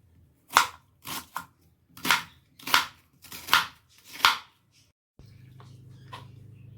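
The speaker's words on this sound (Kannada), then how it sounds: "ನಾನಿಲ್ಲಿ ಸಣ್ಣಕ್ಕೆ, ಅಂದರೆ ತೀರಾ ಸಣ್ಣ ಅಲ್ಲ, ಆ ರೀತಿ ಕಟ್ ಮಾಡಿ ಎತ್ತಿಕ್ಕೋತಾ ಇದ್ದೀನಿ" A knife chopping vegetables into small pieces for noodles, seven distinct sharp thuds on a cutting board in a steady rhythm, close and clear, then a soft rustling handling sound at the end.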